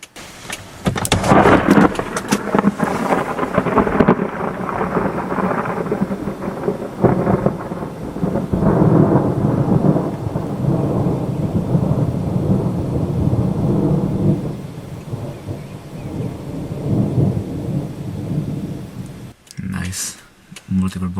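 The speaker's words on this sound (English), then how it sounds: "Multiple bolts. They are all within 2 kilometers from here." Thunder from multiple nearby lightning strikes within about two kilometres rumbles and cracks during a Florida summer storm, loud and rolling over steady rain, then fades before a brief sharp burst near the end, with voices intermittently heard.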